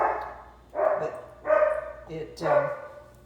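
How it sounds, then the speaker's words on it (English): A dog barks three or four times in a steady rhythm, fairly close and loud, with short pauses between each bark. "I'm sorry, my dog's barking."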